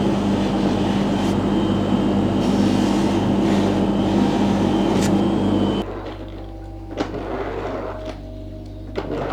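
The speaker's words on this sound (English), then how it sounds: "I'll actually give that a polish on my machine." Polishing machine working a silver spoon ring, a loud steady motor whine with constant hum that abruptly drops to a quieter running tone with small clicks and thumps.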